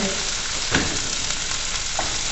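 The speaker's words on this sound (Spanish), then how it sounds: "Agregamos aquí ya la cebolla. La extendemos alrededor de toda la sartén." Chopped onion sizzles steadily in a hot frying pan as it is spread around, with a soft scrape of stirring near the middle and a fainter one toward the end; no voices.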